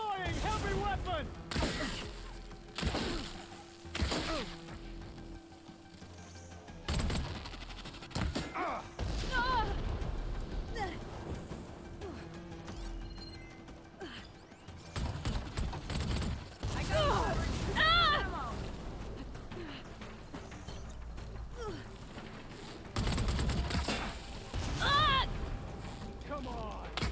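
Heavy gunner machine in Horizon Forbidden West firing its heavy weapon: repeated loud booming bursts and mechanical thuds spread across the stretch, mixed with other combat noise and frequent talking over it.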